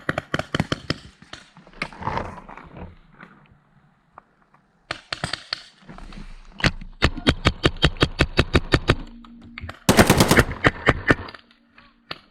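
Paintball markers fire in rapid bursts during an indoor game, a fast string of sharp pops followed by a denser volley, with brief shouted voices between the shots.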